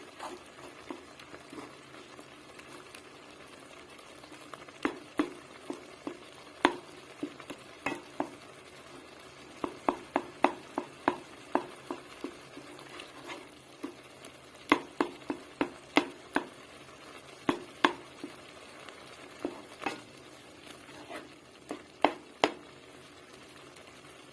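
Tomato paste sautés in a pot for soup, a soft steady sizzle punctuated by frequent light clicks and taps of a spoon stirring against the pot, close and fairly quiet.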